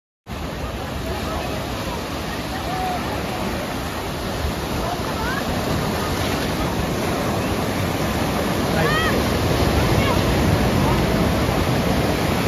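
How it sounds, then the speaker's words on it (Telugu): Sea waves roll and break steadily on Baga Beach in North Goa, a dense continuous surf roar with faint distant crowd babble throughout. "సముద్రం అలలు బాగా వస్తున్నాయి."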